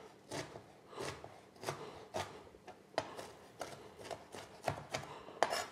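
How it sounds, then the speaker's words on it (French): Spinach leaves coarsely chopped by hand with a knife on a board, a string of about a dozen crisp, irregular cuts, close and fairly quiet, with no talking. "On va juste grossièrement hacher."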